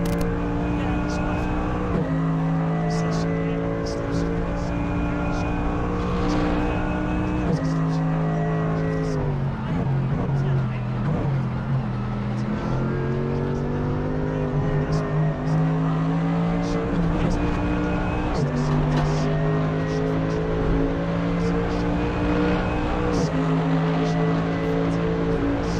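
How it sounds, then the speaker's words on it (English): Race cars, a Mercedes and a Ferrari, in the game Assetto Corsa: a continuous loud engine drone rising and falling through gear changes, with a commentator's voice talking over it. "On the orange Mercedes. It's trying to overtake the Ferrari to get a fast lap"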